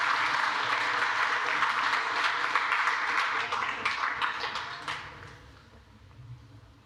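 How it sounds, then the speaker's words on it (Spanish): A church congregation applauds loudly with dense, sustained clapping that thins out and fades over the last couple of seconds. "Vamos a darles un fuerte aplauso."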